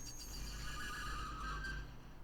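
A horse in a video game whinnies in a drawn-out, shrill neigh over a constant low rumble, lasting about two seconds.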